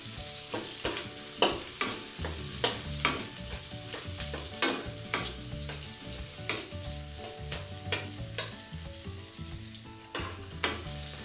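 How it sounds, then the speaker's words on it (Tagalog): Onions sautéing in a pan for a Filipino cabbage and potato omelette: a steady, close frying hiss with regular spatula scrapes and taps against the pan, and no voices. "gigisa lang natin ito. At hahayaan lang natin lumambot muna itong sibuyas."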